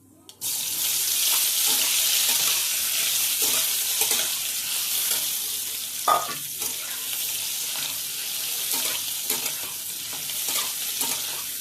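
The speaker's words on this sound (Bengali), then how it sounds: "সিদ্ধ করে রেখেছিলাম, আলুগুলো ভাজবো।" Boiled potatoes fry in a pan with a steady, bright sizzle, broken by occasional stirring scrapes and clinks, with faint talk far beneath.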